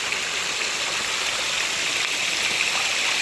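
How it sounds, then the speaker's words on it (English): A small waterfall on a dry-season creek at Breakneck Creek, New York, gives a steady, close, broadband rush of falling water with no pauses and no talk. "Our first baby waterfall."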